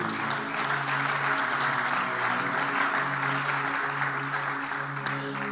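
A large church audience bursts into sustained, loud applause, dense clapping and a hum of voices rolling on without a break.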